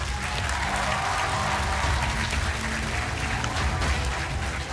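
A studio audience on a television quiz show applauds warmly, a loud, sustained wash of clapping that holds steady for several seconds without any talk over it.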